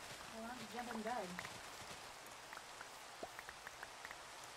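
Soft, steady Minecraft rain patters in the background with scattered drop-like ticks, while a voice briefly talks near the start.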